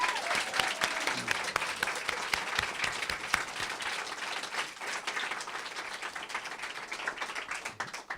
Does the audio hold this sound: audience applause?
yes